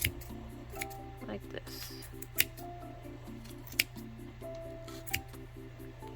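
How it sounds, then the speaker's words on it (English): Scissors snipping through the yarn loops of a crochet pom-pom: a few crisp snips spaced out over a steady low hum, with a person talking softly alongside. "Just cut it all the way, all those little loops you want to cut"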